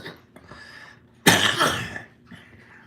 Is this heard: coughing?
yes